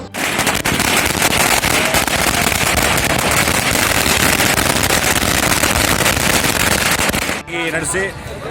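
A long, dense volley of firecrackers bursts loudly and continuously during a celebration at a new bus station, a rapid crackling barrage lasting about seven seconds before stopping abruptly, with voices heard as it ends.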